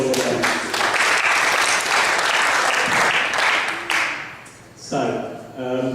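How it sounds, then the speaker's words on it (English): Audience applause at a conference talk, a dense burst of clapping that holds for about four seconds and then tapers off, with a speaker's voice starting up as it fades. "So a round of applause for them."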